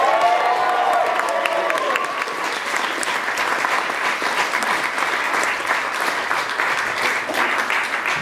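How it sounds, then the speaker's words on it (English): Wedding guests applaud and cheer the newlyweds at a reception, a dense sustained round of clapping with crowd voices that holds steady throughout. "please be upstanding and give a massive round of applause to the new Mr."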